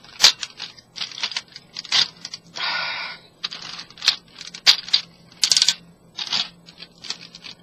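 Plastic clicks and snaps from folding the parts of a Cybertron Optimus Prime transforming toy, sounding as a close, irregular series of short taps with one longer rustling scrape partway through.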